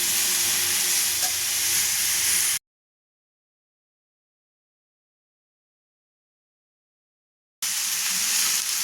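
Pointed gourd slices frying in a pan, a loud, close, steady sizzle that cuts to silence for several seconds and then resumes, with no voices.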